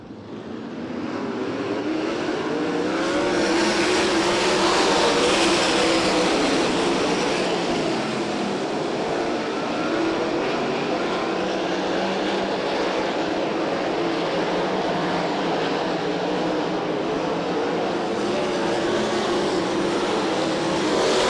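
Sprint cars roar around the 34 Raceway oval during a Sprint Invaders race, a dense, continuous engine howl that swells early and holds loud and steady throughout.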